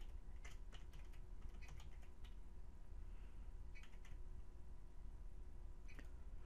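Computer keyboard keys clatter in short irregular bursts of typing with pauses between, faint and close over a low steady background hum.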